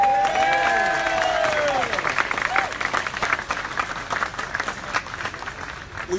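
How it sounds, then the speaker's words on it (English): Crowd at a Charlottesville anti-white-supremacy rally bursting into sustained applause and cheering, dense and loud at first and gradually thinning, with scattered whoops and a voice over the start. "Give yourselves a round of applause."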